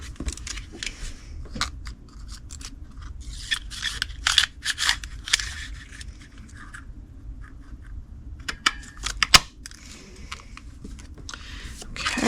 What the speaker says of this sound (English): Cut the leaf out.